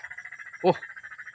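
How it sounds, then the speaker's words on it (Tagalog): A single loud, close frog croak cuts through a steady rhythmic trill of insects or frogs in a farm field planted with sweet potato tops. "Tumunog na yung ating palaka"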